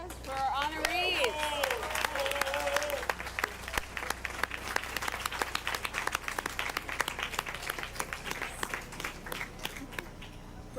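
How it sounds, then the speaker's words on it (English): A school board meeting audience applauds honored students, a full round of clapping that continues steadily for about ten seconds while a voice speaks over the opening seconds. "Join us, please, in another round of applause for our honorees."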